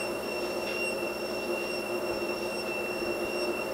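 A beeping ball tucked inside a tennis ball, flung fast past the listener, gives a steady high tone with a Doppler pitch shift and a rushing, whooshing hiss, loud and close, with no voices.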